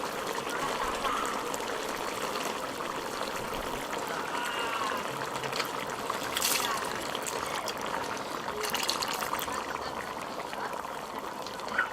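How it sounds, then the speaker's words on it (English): Coconut milk is poured into a lamb curry bubbling in a pot for a Trinidad-style dish, giving a steady liquid gurgle and trickle alongside simmering, with no pause over twelve seconds. "we're going to throw in our coconut milk"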